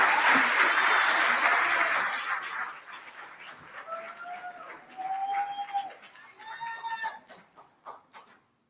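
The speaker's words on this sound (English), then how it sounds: "let's give them a round of applause." Applause at a college honors convocation for President's List scholars, loud clapping from the audience fading out over several seconds, followed by scattered birdlike squeaks and a few isolated claps.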